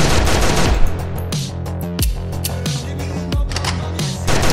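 Gunfire rattles in the Skibidi Toilet horror video game, with rapid mechanical bursts and sharp individual shots repeating loudly and close. A dense, continuous game soundscape plays underneath and no voice speaks over it.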